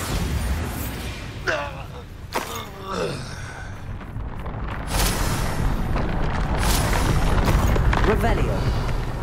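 A Bombarda blasting spell explodes in the Hogwarts Legacy video game with heavy booms and creaking debris amid battle clatter, building to a sustained loud rumble, with voices speaking over it.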